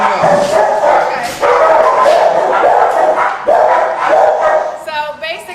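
Several dogs bark repeatedly at a rescue kennel, loud and close, with overlapping yips and a whimper at the end, all blending into a continuous din.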